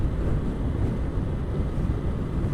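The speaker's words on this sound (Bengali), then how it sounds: "পুকুরের পাশে তো এমনিই একটু বেশি আপনার বাতাস থাকে লেক টেকের পাশে" Strong wind beside a pond while riding a motorcycle, a continuous heavy low rumble and buffeting of air against the microphone, close and steady throughout with no voices.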